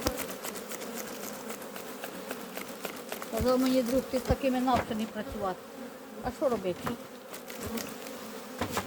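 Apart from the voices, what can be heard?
honeybees buzzing at an apiary hive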